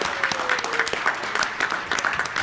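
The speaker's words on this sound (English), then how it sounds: "A big round of applause for them for this amazing work." Audience applause at a medical patient-advocacy panel in Miami, a dense steady patter of many hands clapping at close to moderate distance, sustained for a couple of seconds with no talking over it.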